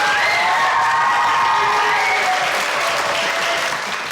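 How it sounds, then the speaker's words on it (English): A studio audience giving a round of applause, loud, dense clapping with some cheering and whoops mixed in, sustained throughout and easing off slightly at the end. "Hey, give me a round of applause, guys, come on."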